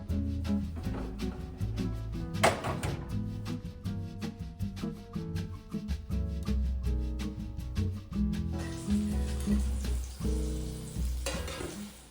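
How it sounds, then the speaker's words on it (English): Black bean burgers sizzle and fry in a pan while English muffins toast, a steady crackle with stirring under background music. "We can toast the muffins while we cook off the black bean burgers."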